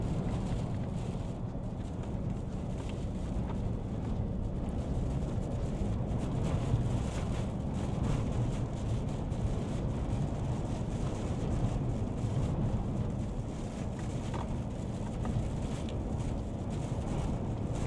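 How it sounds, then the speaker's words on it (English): A strong wind roars without a break during a historic winter snowstorm in North Carolina. It is a dense, loud gusting rush with no voices. "The wind is getting stronger, which we expected, but it's really getting stronger."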